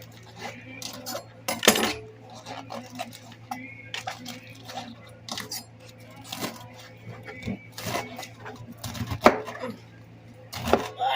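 A knife chops through rolled, washed collard greens on a cutting board in repeated sharp knocks at an uneven pace, with quieter handling sounds and a low steady hum between strikes.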